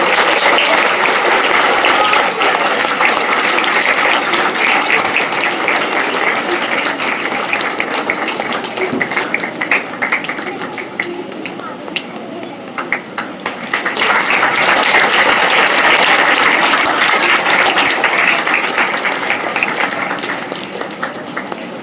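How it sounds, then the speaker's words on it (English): Applause breaks out for a top-scoring student at a school Independence Day celebration, loud and continuous clapping from a large audience that dips briefly midway before swelling again. "A big round of applause for this star of the day."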